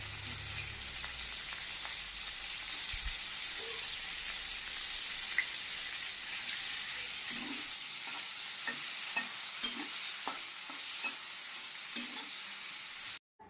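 Masala paneer fries and sizzles in a pan while being stirred, a continuous hissing sizzle with scattered scraping taps of the spoon growing more distinct toward the end, with no one talking.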